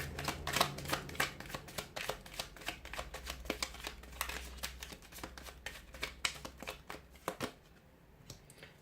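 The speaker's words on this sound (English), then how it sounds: "give the cards a shuffle" Tarot cards are shuffled in a steady run of quick riffling snaps and flicks, close by and crisp, with no talking.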